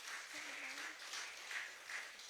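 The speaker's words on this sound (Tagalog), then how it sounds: "isang malakas na palakpak po muna para kay Lord" A church congregation at a Sunday service breaks into steady applause, a soft, fairly distant patter of many hands clapping continuously for a couple of seconds.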